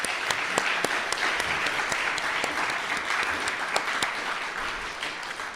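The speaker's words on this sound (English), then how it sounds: "Let's try to give them a round of applause for what they're about to do." A church congregation at a community worship service gives the YRUU youth group a round of applause, steady dense clapping filling the room for several seconds with sharp individual claps standing out.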